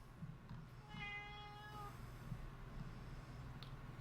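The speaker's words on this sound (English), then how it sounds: "I can hear you meowing down there, cat." A single cat gives one clear, drawn-out meow at moderate distance over a quiet room hum, with no talk.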